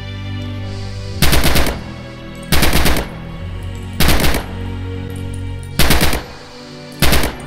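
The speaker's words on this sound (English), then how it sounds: "Free fire at the targets on the range." Machine-gun fire at range targets in the video game Red Orchestra 2: five loud, separate bursts, each about half a second, spaced roughly a second apart, with quiet gaps between.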